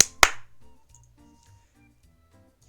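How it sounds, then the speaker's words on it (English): One sharp clap of hands, close and crisp, followed by faint low background murmur. "gets to her feet and claps her hands together"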